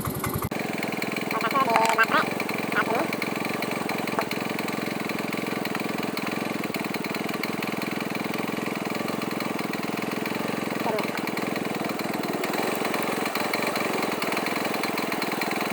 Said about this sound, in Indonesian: Saat motor hidup